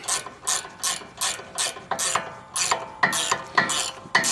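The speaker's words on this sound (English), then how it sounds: "Speed wrenches are the ticket." A speed wrench ratchets while tightening brake caliper bolts during a brake pad and rotor change, producing about a dozen rhythmic, crisp clicking bursts at a steady pace, close and clear with no talking.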